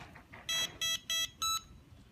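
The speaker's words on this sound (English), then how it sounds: "so you push it once, you get 2 beeps" Four short, bright electronic beeps in a quick even rhythm from a Lian Sheng LS 111 quadcopter drone transmitter, close and clear, with no talking.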